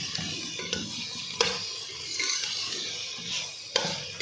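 Chicken and vegetables are stirred with spices in a pan, a soft scraping and rubbing at close range with a few sharper knocks of the utensil against the pan over a faint background hiss.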